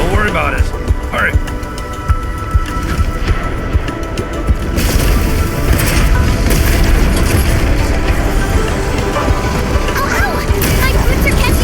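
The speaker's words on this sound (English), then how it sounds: "It exploded!" Explosion in the video game Arknights Endfield, a sudden loud burst of rumbling noise that swells and holds as a dense roar, with game voices talking around it.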